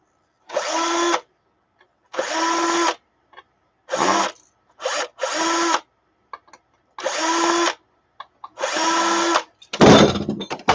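A power tool, likely a drill or driver, runs in about seven short bursts of roughly a second each while taking apart hard drives, with pauses between, ending in a louder clattering rattle.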